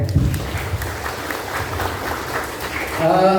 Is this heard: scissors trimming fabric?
no